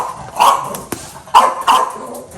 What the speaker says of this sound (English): And there's Pudgy, if you hear her barking.